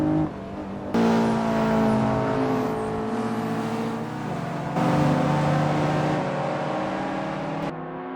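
Onboard engine of a Honda NSX race car lapping Tsukuba, a loud sustained howl climbing in pitch with sharp drops at gear changes, heard alone.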